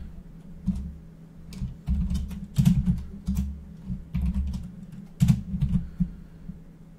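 Typing code on a computer keyboard: irregular clusters of soft key clicks and clacks, close up, with short pauses between bursts and no talking.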